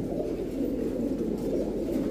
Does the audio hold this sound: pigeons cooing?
yes